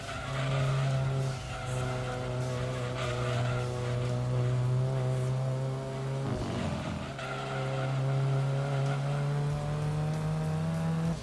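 Race cars at full throttle in the video game Gran Turismo 2, a Super Touring Car Trophy race with a Vitz among the field, loud steady high-revving engine drones with a brief shift dip midway, continuous throughout.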